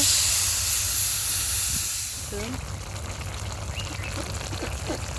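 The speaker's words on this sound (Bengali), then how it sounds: "অল্প একটু পানি দেব" A little water hits a hot pan of icha fish and taro stolon curry, letting out a loud steamy hiss that gradually settles into a softer simmering sizzle.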